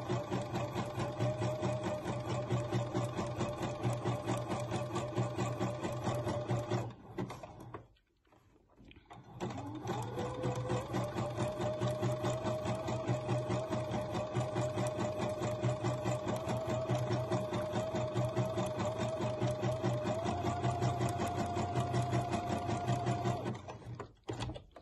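Sewing machine sewing elastic onto a longline bra, a close, steady whirring hum of rapid stitching that stops briefly for about a second, then resumes and runs on evenly, with no speech.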